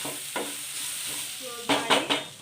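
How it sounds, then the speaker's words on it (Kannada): Cluster beans (gorikayi) fry on low flame in a pan for a palya, with a soft steady sizzle under several scraping stirs of a spatula that grow louder toward the end. "ಲೋ ಫ್ಲೇಮಲ್ಲಿ ಇಟ್ಟು ಐದು ನಿಮಿಷ ಫ್ರೈ ಮಾಡಿದ್ದೀನಿ ಚೆನ್ನಾಗಿ ಫ್ರೈ ಆಗಿದೆ"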